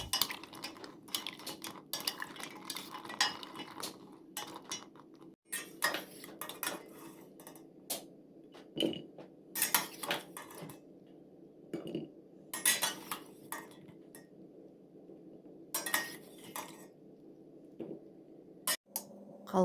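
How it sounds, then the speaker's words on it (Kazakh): Tulumba pastries being stirred in syrup, heard as intermittent clinks and scrapes of a metal utensil against a pot over a quiet background, with irregular pauses and occasional sharper knocks. "Сиропта 1-2 минут араластырып, сосын бөлек ыдысқа сүзіп алыңыздар."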